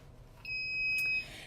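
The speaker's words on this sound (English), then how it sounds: "Okay, that is going to beep." A Gemini Foilpress foil heat press gives one steady electronic beep of under a second, fairly clear and close, with no talking over it.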